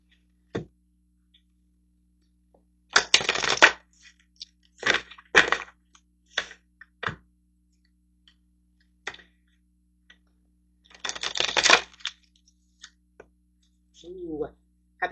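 Tarot cards shuffled and drawn in short bursts of crisp riffling and snapping, close and otherwise quiet, with a brief bit of speech near the end.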